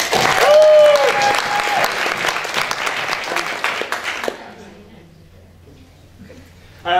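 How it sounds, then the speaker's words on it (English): A crowd at a Liberal Democrat blogger awards ceremony claps steadily for several seconds, a whistle rising briefly at the start, before the applause fades out into near silence. "I think we should give a round of applause for each of them."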